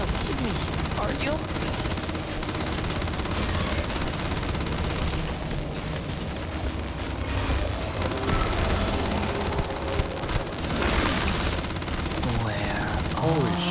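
Sustained automatic gunfire aimed at a Terramorph creature in the space game Starfield, rapid overlapping shots forming a dense, loud barrage under game noise and occasional voices.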